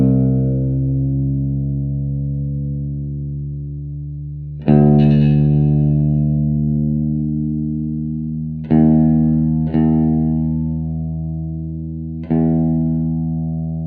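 Through a distorted amp, the low sixth string of an electric guitar is struck while being tuned to E. Each note rings out and slowly decays, with the string hit again every few seconds, five plucks in all.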